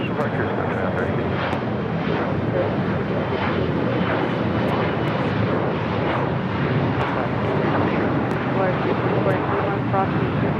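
A plane departing LAX on runway 25 left gives off a loud, continuous broadband engine roar that stays dense and steady from start to finish.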